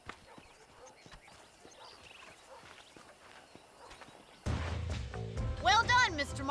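Horses' hooves clip-clop at a steady walking pace in the Red Dead Redemption video game, moderately near, with a louder burst of music or sound effects near the end.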